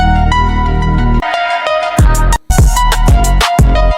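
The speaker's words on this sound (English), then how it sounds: "trap beats with banging 808 and tension melody." AI-generated trap beat with a booming, banging 808 bass and a tense melodic line, loud and up front, with punchy drum hits and a brief dropout near the middle.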